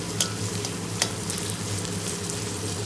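Onions and green chilies fry in a pan for chicken fry piece biryani, a steady dense sizzle with a couple of sharp scraping clicks of a spatula, no talking.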